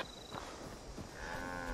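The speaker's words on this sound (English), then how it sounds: "Man, do I really have to kill these cows?" Cattle moo in the video game Fallout 76, with a couple of drawn-out lowing calls over a soft, constant game ambience. No one speaks.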